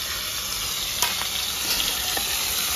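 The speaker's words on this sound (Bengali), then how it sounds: "তেলটা গরম হয়ে গেছে, আমি মাছটা দিয়ে দেবো।" Fish frying in hot oil in a pan crackles and sizzles steadily and close, with a few sharper pops and spatters breaking through the dense hiss.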